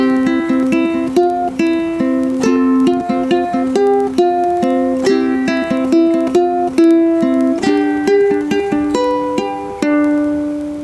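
Ukulele strummed and plucked in a quick, lilting pattern, notes ringing together as a bright chordal melody, loud and close with no voice over it.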